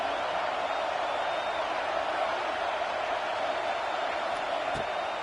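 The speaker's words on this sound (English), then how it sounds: "Here comes the noise from this big crowd in Happy Valley on third down." Steady roar of a large football stadium crowd at Penn State's Happy Valley on third down, sustained and distant-sounding, without distinct voices standing out.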